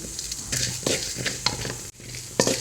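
Rice sizzles as it fries in a pan, with a spatula stirring and scraping in short uneven strokes close by, and a brief dip in the sound near the middle.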